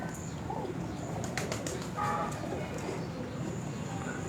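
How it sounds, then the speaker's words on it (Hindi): A Cheena pigeon, a Black Water type with black eyelids, feet and beak, coos faintly on a Multan rooftop among other birds, with steady outdoor background noise throughout. "ये असल चीना कबूतर है जी"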